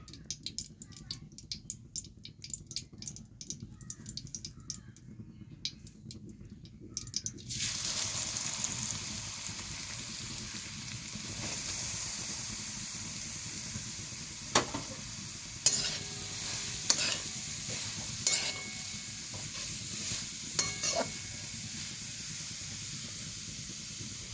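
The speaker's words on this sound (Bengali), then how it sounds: "এবার আমি গ্রেট করে রাখা গাজরটা ঘিয়ের মধ্যে দিয়ে দেবো।" Grated carrot goes into hot ghee for carrot halwa and fries with a strong, steady sizzle and hiss. Spoon scrapes and stirring knocks recur through the sizzle after a quieter opening stretch.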